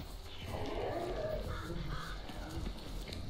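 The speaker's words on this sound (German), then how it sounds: "Das sind Krähen, Vorsicht." Crows caw faintly in a Hunt: Showdown game level, their harsh calls partly buried under a steady rumbling background of game ambience.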